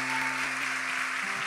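Worshippers at a Sunday Mass clap together in a steady wash of applause while a low sustained musical tone and a few soft thumps sound beneath it.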